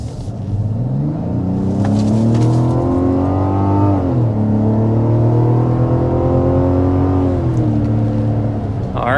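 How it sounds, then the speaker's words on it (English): A 2026 Mazda CX-90 accelerates hard to 60 mph, with a loud, steady engine drone whose pitch rises through two gear shifts. It stays close and continuous, and no one speaks over it. "But first, we need to start with a hard acceleration."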